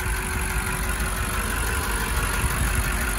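A 2020 BMW M5's 600-horsepower engine idles with the hood open, giving a steady, continuous low rumble and hum that stays even in level throughout, close by and with no voices over it.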